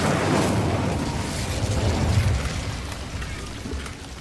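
Incendio fire spell cast in Hogwarts Legacy: a dense, roaring whoosh of flame that bursts loud at once, crackles and hisses steadily, then tapers slightly over a few seconds, with no voices.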